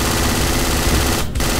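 Dense, continuous automatic gunfire from the game Project Reality, loud and steady with a brief dip near the end.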